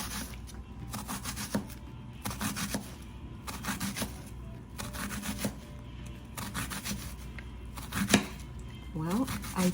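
A knife dicing an onion on a cutting board, repeated bursts of rapid chopping strokes in clusters separated by short pauses, close and clear, with occasional quiet talking alongside.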